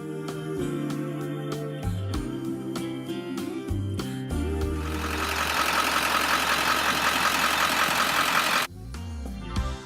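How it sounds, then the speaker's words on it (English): A 1995 Ford E350 bus with a Powerstroke diesel engine, run without a fuel heater, cranks and starts, settling into a loud, close, rough diesel idle with a clattering knock, with music playing over it. "Starts and runs without a fuel heater."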